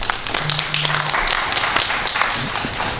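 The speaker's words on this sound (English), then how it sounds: "They're clapping for you." Studio audience clapping on a talk show, a steady wash of many hands applauding at moderate volume throughout, with faint voices mixed in.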